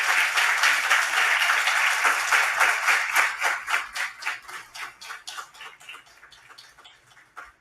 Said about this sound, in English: could I please request a big round of applause for our panelists?